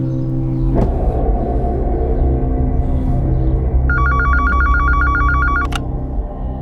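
A telephone rings at a hospital with a loud, continuous electronic trill lasting a couple of seconds, cutting sharply off, over a steady rumbling background and an earlier sharp click.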